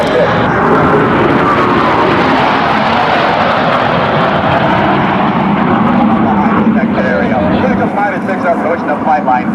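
US Navy Blue Angels jets pass low over a Rhode Island airshow with a loud, continuous roaring jet noise that fills the scene, while an announcer talks over it.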